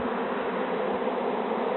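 Dense, continuous buzzing of a large mass of swarming honeybees, loud and close, a steady droning hum with no talking.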